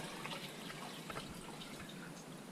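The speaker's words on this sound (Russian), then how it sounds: "Вот воду сюда наливаю." Water pours into a container beside a wood-fired Russian oven, a faint, steady hissing trickle with a few soft splashes, heard close but quiet.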